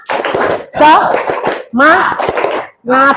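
Classroom of students doing a rhythmic group clap cheer during a school counselling session: four loud bursts of sharp, quick claps mixed with children's chanting voices, close by.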